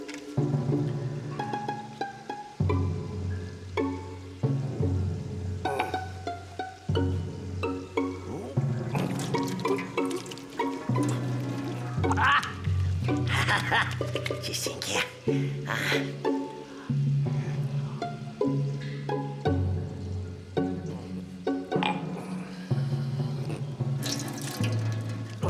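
Water runs and splashes from a tap into a sink for washing, coming in uneven bursts and gurgles with pauses between them, fairly close and moderately loud.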